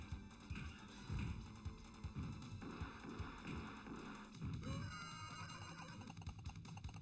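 Horses neighing in a retro TMNT beat-'em-up video game, a shrill whinny rising over busy chiptune music with punchy hit and stomping effects.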